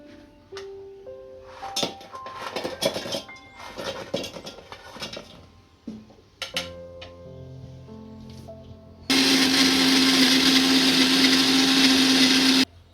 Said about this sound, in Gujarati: આ ત્રણ પેકેટ આપણે ઓરિયો બિસ્કિટ લીધા છે આને પહેલાં મિક્સરમાં દળી નાખશું